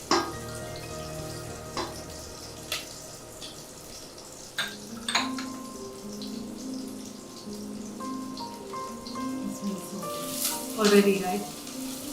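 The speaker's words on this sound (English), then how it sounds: "Give it a simmer, wait for a minute or two." Biryani masala simmers in a pan, giving a soft continuous sizzle with occasional pops and light clinks, close and quiet, while a voice speaks briefly.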